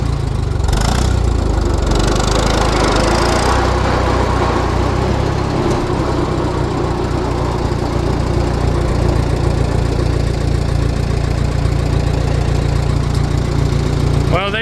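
A 1949 J.I. Case LA tractor engine runs steadily in fourth gear, a loud, close, continuous low chugging rumble that carries on without pause.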